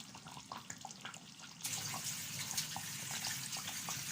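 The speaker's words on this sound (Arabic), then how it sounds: "عايزين نحط لها شويه ميه صغيرين كده." Water poured from a tap into a pot of tomato sauce on the stove, a faint trickle at first, then a louder steady stream of running water filling the pot.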